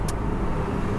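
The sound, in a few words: busy traffic near car chargers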